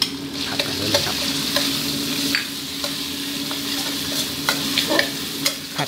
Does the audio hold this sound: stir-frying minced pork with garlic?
yes